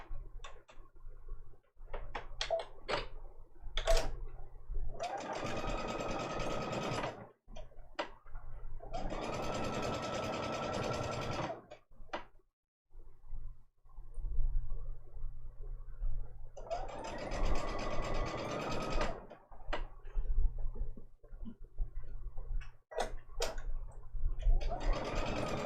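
A sewing machine pieces small 1.5 inch fabric squares for a butterfly pixel quilt, running in several short whirring bursts of a few seconds each. Quieter handling clicks and fabric shuffling fill the gaps, with the sound close and clear.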